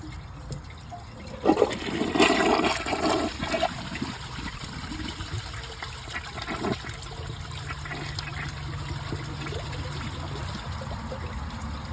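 Dual flush high-efficiency toilet flushing during a clog test, a close rushing surge of water that fades into a long steady trickle and refill with no talk.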